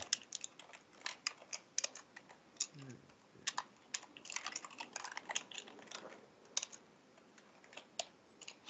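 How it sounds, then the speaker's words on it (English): Computer keyboard keys clatter in quick, uneven bursts as notes are typed during a tabletop Dungeons & Dragons session, close and fairly quiet, with brief low murmurs of voice in the background. "Who's typing? This is breaking my immersion. Well, Al, I'm trying to type notes."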